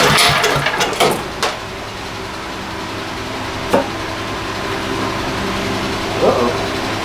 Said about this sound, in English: let's give her a fire up, see how she does